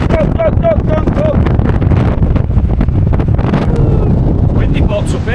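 Strong wind buffets the microphone at a wild campsite, a loud continuous roar throughout, with someone talking and whistling over it.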